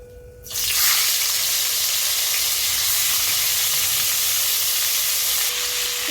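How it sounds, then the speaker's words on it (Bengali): A fish head dropped into hot oil in a kadai bursts into loud, steady sizzling and hissing that holds strongly for several seconds, heard close up with no talking. "সবার প্রথমে আমি মাছের মাথাটাকে ভেজে নিচ্ছি"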